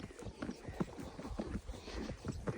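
Hooves of a mare clip-clop in a steady walking rhythm during a ride, close and moderately loud, with faint outdoor noise between the footfalls.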